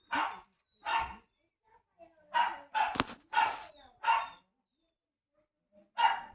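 A small female dog barks indoors in short sharp yips, about eight of them in irregular clusters with quiet gaps between, fairly close and clear.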